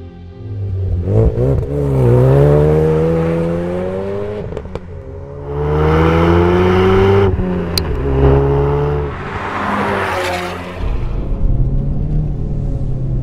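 A car fitted with a Magnaflow catback exhaust revs repeatedly, loud and close, with deep rumbling pulls that rise in pitch and fall back between surges, no voices.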